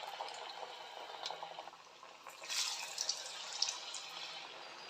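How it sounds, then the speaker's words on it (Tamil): Vada fritters dropped into hot oil give a soft, close bubbling and hiss that builds into a louder sizzle burst midway, then keeps crackling gently, with no talking. "எண்ணெய் நல்லா சூடானதும் நம்ம தட்டி வச்சுருக்க வடையெல்லாம் உள்ளே சேர்த்துக்கலாம்."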